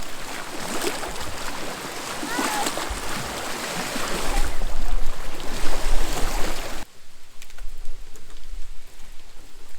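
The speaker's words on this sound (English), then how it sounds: "It's raining." Rain falls over a lake at an Arkansas campsite, a steady dense hiss of drops that swells louder midway and then drops to a softer patter.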